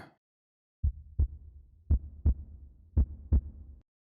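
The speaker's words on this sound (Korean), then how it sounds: "이 심장 소리는 뭐지?" An ASMR heartbeat, close and muffled: deep double thumps arrive in three evenly spaced pairs over a soft low hum, then fade to silence.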